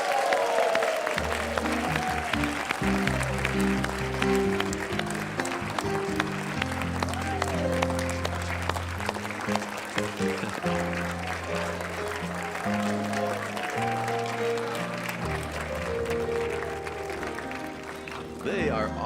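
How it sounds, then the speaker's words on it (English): A church congregation applauds the youth church Sunshine Kids Club with sustained, steady clapping that lasts the whole stretch, layered over tonal music-like sounds underneath. "Sunshine Kids Club a round of applause."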